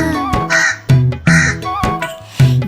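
Loud, repeated crow caws, about four harsh calls in a steady rhythm, ring out over the bright musical backing of a Tamil children's rhyme.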